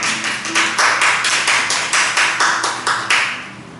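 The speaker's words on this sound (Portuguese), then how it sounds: "Vamos aplaudir o Senhor," Church congregation clapping together in a steady rhythmic beat, about four claps per second, loud and close and running unbroken with no voices over it.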